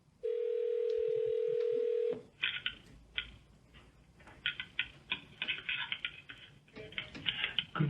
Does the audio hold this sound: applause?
no